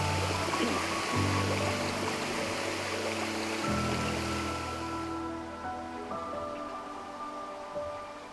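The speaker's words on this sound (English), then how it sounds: "I just made a waterfall." Steady splashing of water tumbling over a small drop in a stream, a continuous rushing gurgle that stays loud and close throughout.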